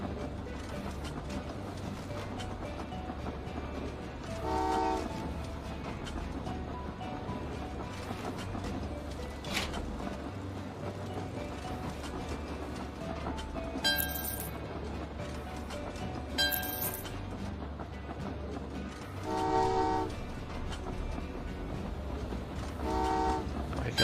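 A train in the railway puzzle game Train Valley 2 rolls through a Detroit level with mechanical clatter, while several short toots and chimes sound at intervals over a constant humming game backdrop.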